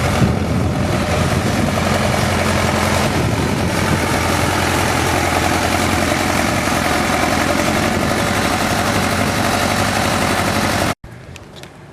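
At the 2013 Red Power Round Up show, a twin-turbo 68 tractor engine runs with a loud, deep, continuous rumble close by, steady throughout before stopping abruptly near the end.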